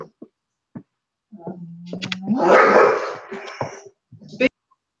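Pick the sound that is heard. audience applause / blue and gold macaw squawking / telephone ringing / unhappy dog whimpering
unhappy dog whimpering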